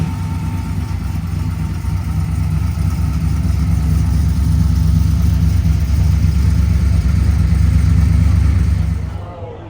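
An 850-horsepower custom car engine idles at a fifties car show with a deep, steady rumble, loud and close, holding even for most of the clip before cutting off abruptly at the end.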